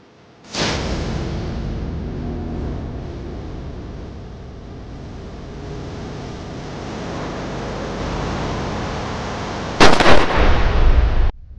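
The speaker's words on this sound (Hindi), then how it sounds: "आज मुझे गोली चलाने पर मजबूर मत कर पाठक" A loud gunshot in a TV crime drama cracks at the start, leaving a long rumbling echo that fades, followed by a second harsh blast near the end.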